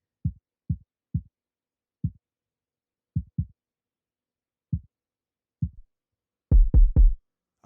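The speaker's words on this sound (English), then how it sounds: "let's mute this and then play the kick" A kick drum in a music mix plays alone as deep, short thumping hits at an uneven spacing, with a faster, louder cluster of four kicks near the end and silence between the hits.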